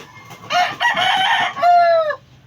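A seven-month-old stag rooster crows loudly and close by, one long strained call that rises and then trails off, with faint background noise around it.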